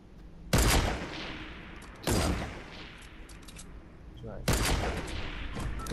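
Three sharp bursts of Fortnite gunfire crack out in quick volleys about two seconds apart, each loud at the onset and then trailing off, with quieter game ambience in between.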